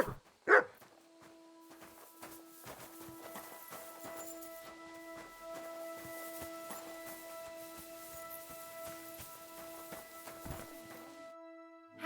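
A dog barks in Kingdom Come: Deliverance II, with one loud close bark near the start followed by fainter scattered yips and footsteps over a steady sustained musical drone.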